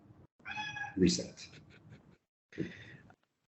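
A cat meows twice, close and fairly clear, a drawn-out meow followed by a shorter one after a brief pause, with a soft word spoken nearby.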